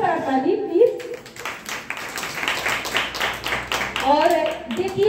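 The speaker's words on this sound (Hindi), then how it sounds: "एक जोरदार ताली प्लीज" Audience clapping at a DXN program in Bhagwanpur, a burst of crowd applause in the middle, set between a woman's speech at the start and at the end.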